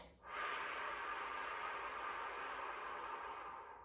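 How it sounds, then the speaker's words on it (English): A slow, steady exhalation during a breathing exercise, heard as a soft, sustained breathy hiss that starts after a brief pause and fades gently toward the end, close and alone. "Breathing in, out"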